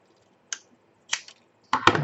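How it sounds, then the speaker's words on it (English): Scissors trim a small paper journal tag, making three short, crisp snips close by, each louder than the last, with brief quiet gaps between them. "So what I'm going to do is cut it."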